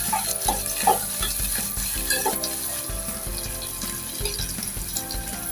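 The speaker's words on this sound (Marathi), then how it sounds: "तेलावरती कांदा, कोथिंबीर, कढीपत्ता, समजा मिरची परतून द्यायची." Steady sizzling of onion, coriander, curry leaves and chilli frying in hot oil, with occasional stirring scrapes and clinks throughout, close and fairly loud, no talking.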